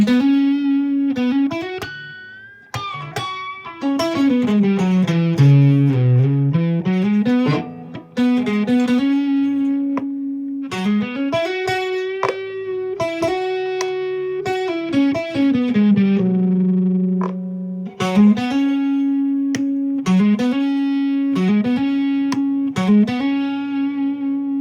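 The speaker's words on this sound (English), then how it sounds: "I'm gonna put on a little distortion. Well, a little overdrive," A homemade guitar built from household parts, played through an overdrive effect: loud, gritty sustained notes and bent phrases ring out continuously with no talk.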